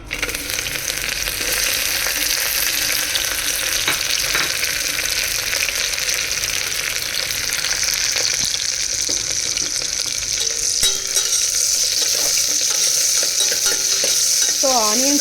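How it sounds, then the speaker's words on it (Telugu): Mint leaves and onions fry in a hot pan for a dhaba-style mixed vegetable curry, giving a loud, continuous hissing sizzle close by, with occasional stirring scrapes and a few light clinks toward the end. "ఇప్పుడు ఇందులో నేను పుదీనాను, ఆనియన్స్ వేస్తున్నానండి"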